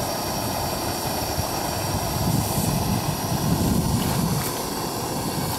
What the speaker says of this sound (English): A little wind here, and my beautiful backdrop's about to tip over in the wind